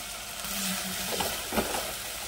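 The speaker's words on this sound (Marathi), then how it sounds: "आता यामध्ये हळद घालूया," Turmeric goes into a frying rasam mixture in a pan while it is stirred, giving a soft, steady sizzle with a few brief scraping stir sounds and no talking.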